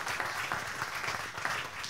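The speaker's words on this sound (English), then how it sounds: "Another round of applause for him." Audience applause at a tech talk, a dense, steady wash of many hands clapping from start to finish with no talking.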